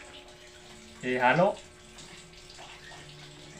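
Water pours for about half a second into a bowl for mixing with egg, a bright splashing burst amid a quiet kitchen, with soft talk around it.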